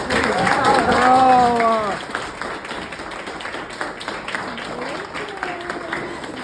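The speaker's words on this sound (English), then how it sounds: "Let's give another round of applause for Gabby." An audience applauds after a poem reading, scattered clapping that continues at a moderate level after a voice speaks at the start.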